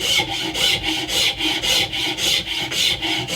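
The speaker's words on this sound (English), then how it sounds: "You've got to keep filing away" Hand filing along a wooden walking stick, about eight steady rhythmic rasping strokes, close and fairly loud, alone with no talk.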